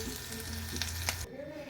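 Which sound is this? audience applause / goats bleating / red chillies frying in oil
red chillies frying in oil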